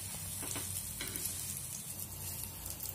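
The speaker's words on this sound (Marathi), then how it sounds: "दोन्ही बाजूनी छान भाजून घेऊया" Bread omelette frying in a pan, a quiet, steady sizzle with a few soft scraping touches as it is turned and pressed, no voices.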